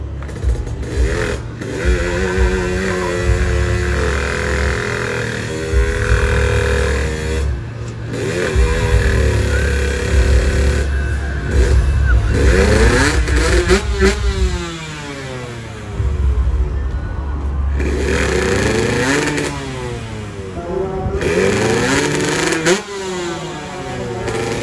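Several motorcycle engines, including a Kawasaki Ninja, revving hard nearby at a drag racing event, pitch rising and falling in repeated sweeps as bikes accelerate past, loud and continuous.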